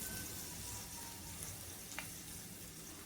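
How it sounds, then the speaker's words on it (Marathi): Grated raw mango sautéing with softened onion in a home kitchen pan, a faint, steady sizzle and crackle with a brief stir or scrape partway through. "कैरी पण 1 मिनटभर परतून घेतली आहे"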